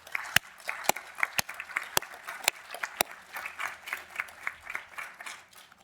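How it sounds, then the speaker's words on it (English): Council members at a committee meeting give a round of applause, a scattered, fairly sparse patter of claps with a few sharp standout hand strikes. It sounds moderately quiet in a large room. "Members of council, let's give them a round of applause."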